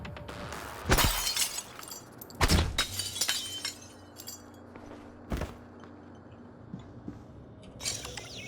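Glass shatters in the video game Prey. Two loud breaking crashes land close together early on, followed by tinkling shards and a softer crash later, over a quiet hum of ambience.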